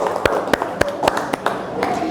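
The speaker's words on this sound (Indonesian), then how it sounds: "Oke, tepuk tangan untuk kita semua." A classroom group claps hands together in several loud, separate rhythmic bursts, with faint voices in the background.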